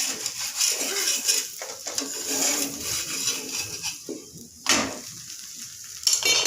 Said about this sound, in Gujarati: તો જો અહીંયા હે ને પરોઠા બને છે